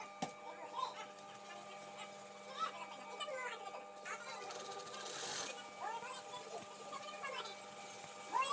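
A sewing machine stitches pants fabric in short, uneven bursts of mechanical whirring and ticking, fairly quiet, with a person talking over it and children's voices in the background.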